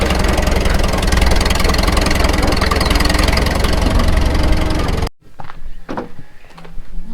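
A 70-year-old International T9 crawler dozer engine runs loud and steady at close range for about five seconds, then cuts out abruptly, leaving quieter intermittent knocks and clatter.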